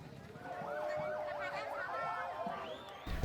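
A fire engine's siren wails as it arrives at a burning motorbike workshop, a loud rising and falling tone close by over street background.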